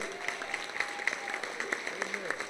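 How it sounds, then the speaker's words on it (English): Crowd at a Wildcat football championship banquet applauds, a sustained, fairly loud patter of many hands with sharper individual claps popping through, and speech mixed faintly underneath. "Give yourselves a round of applause for being here"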